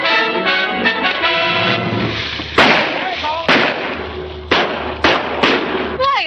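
Several sharp gunshots fired at a man in a 1940 Panama mystery film, loud irregular cracks cutting through orchestral music and voices.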